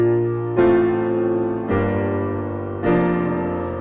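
Solo piano plays a slow sequence of four sustained chords from a song, each struck clearly about a second apart with a descending left-hand line, close and alone.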